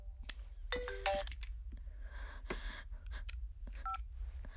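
Short electronic phone tones chirp in bursts, a ringtone-like melody sounding intermittently over a low background hum.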